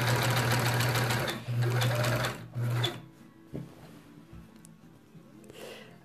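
A sewing machine stitches binding onto a quilt, its motor whirring in steady bursts that stop and start, with short pauses and a few soft clicks between runs.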